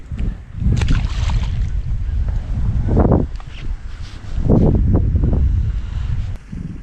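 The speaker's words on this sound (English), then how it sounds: "This wind is unrelenting and it is chilling me to the bone" Strong, cold winter wind gusting at a New Jersey pond, a loud continuous roar buffeting the microphone with rising and falling gusts throughout.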